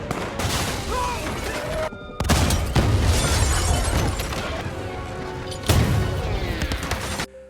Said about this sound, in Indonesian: Jack meledakkan bahan peledak, membunuh banyak anak buah Bog